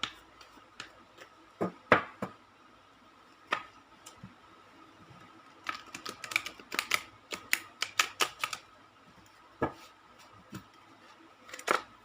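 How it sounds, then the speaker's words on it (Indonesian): Tarot cards are shuffled by hand in scattered, crisp flicks and snaps, sparse at first and then a quick cluster of close riffles, with quiet gaps between. "saya shuffle kartunya dulu"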